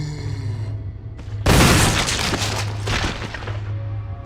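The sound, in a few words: shotgun fire in Resident Evil video game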